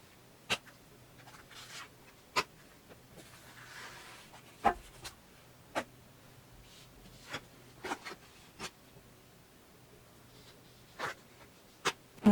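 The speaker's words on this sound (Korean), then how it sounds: "조언 카드 뽑아볼게요." Tarot advice cards being drawn and laid out on a table, giving a series of soft, sharp taps and light shuffling rustles at irregular intervals, close and fairly quiet against a still room.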